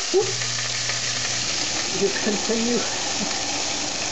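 Food sizzling and frying in a hot pan as it is tossed and stirred, a steady close hiss with a few soft clatters and low hums, no voices.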